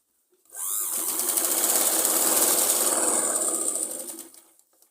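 A sewing machine runs steadily for about three seconds while stitching a Punjabi suit, with a fast, even whirring rattle that starts up quickly and then slows to a stop.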